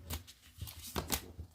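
A deck of tarot cards is shuffled close by, with quick soft riffling flutters and papery slaps in a brief, quiet burst.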